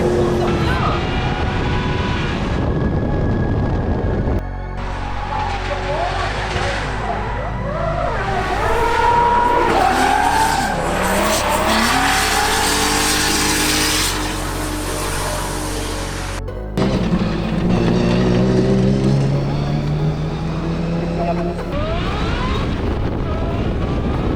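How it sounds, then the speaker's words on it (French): A supercharged V8 Nissan Skyline drifts at a competition, its engine revving hard in loud rising and falling sweeps while the tires skid and squeal, close and sustained, with voices heard at times. "Autour de Guigui au volant de sa Skyline V8 compresseur"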